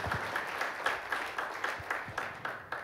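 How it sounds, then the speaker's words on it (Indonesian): A church service crowd gives a brief, fairly faint round of applause for Jesus Christ, with clap accents standing out over a soft, even wash of hands. "Beri tepuk tangan ya buat Tuhan kita Yesus Kristus"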